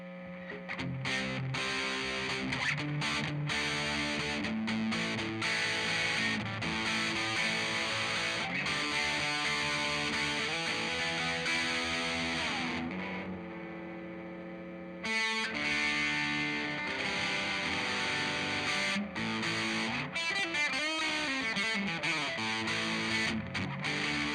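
A Gibson SG Special electric guitar played through its bridge pickup, loud distorted riffs and chords that break off briefly and then resume, with no voice.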